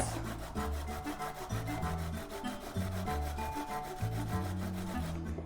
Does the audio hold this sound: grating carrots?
yes